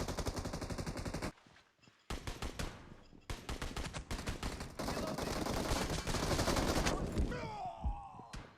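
Rapid automatic gunfire from a video game, loud bursts broken by short pauses, ending with a trailing explosive rumble.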